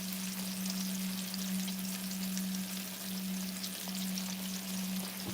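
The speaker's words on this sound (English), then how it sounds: "We're cooking striped bass." Striped bass frying in a pan makes a steady, close sizzle and crackle throughout, with a constant low hum underneath and no talking.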